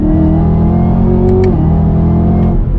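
Chevrolet Camaro ZL1 engine pulling hard at about 60 mph on a highway, a loud steady low drone with a slight rise in pitch, heard from inside the car.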